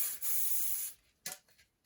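A strong super-hold hairspray is sprayed close by in one long hissing burst, followed by a short second spritz after a pause.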